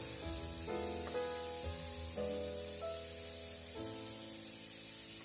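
Prawns cooking in coconut milk in a pan give off a constant soft sizzling hiss for several seconds, with melodic background music playing over it.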